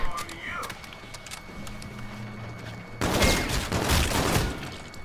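A K-bar assault rifle fires in Infinite Warfare Zombies as a dense, continuous burst of gunfire that starts abruptly partway through and follows a quieter stretch of game sounds.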